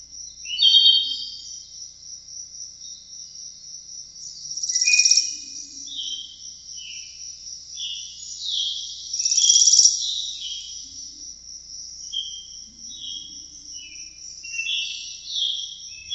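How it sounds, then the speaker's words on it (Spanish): Small birds chirping outdoors, with quick high twittering calls that overlap in a steady chorus and swell now and then, heard at a moderate distance with no talking. "son los pajaritos"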